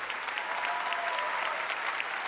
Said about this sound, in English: That got a real big resounding applause.